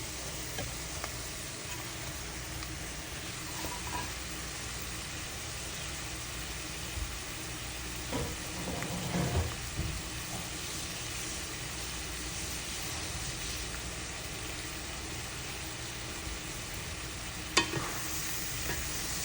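Shrimp fry in a spiced pan with a steady, even sizzle that runs the whole time, joined by a few faint stirring knocks.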